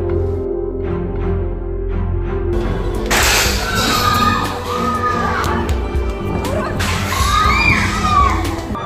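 A large crowd at a violent street protest where rocks are thrown shouts and yells in loud, dense bursts, swelling into two strong surges of overlapping voices over a constant roar.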